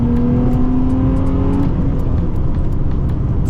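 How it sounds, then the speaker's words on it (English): Nissan 350Z accelerating, a loud close engine note climbing steadily in pitch under hard throttle, with continuous road and exhaust roar. "So should we gas it? We'll just accelerate right here for a sec."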